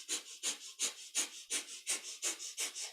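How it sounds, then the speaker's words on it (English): Kundalini yoga breath of fire: rapid, even panting through the nose, about four sharp huffs per second, each close and breathy, with a steady pumping rhythm and no talking. "it's a panting breath, but through the nose. And there's a steady pump through the navel,"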